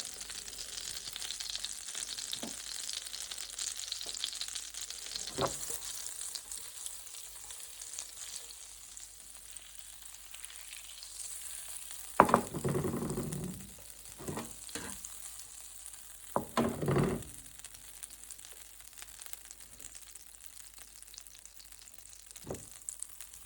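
Cumin seeds frying in melted butter in a pan give a steady, soft sizzle throughout, with a few sharper crackles and stirring scrapes standing out near the middle; no one talks.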